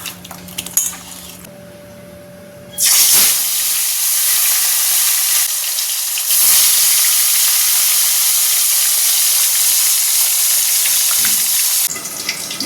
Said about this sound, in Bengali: এখানে পাবদা মাছটা ভাজা হচ্ছে ঢাকা দিয়ে দিয়ে ভাজা হচ্ছে